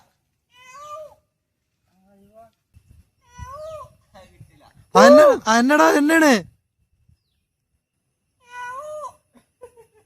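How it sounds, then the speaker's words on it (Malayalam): A cat meows several times in a quiet room, with one loud, drawn-out wail in the middle, alongside a few brief spoken words. "അത് പൂച്ചല്ലേ?"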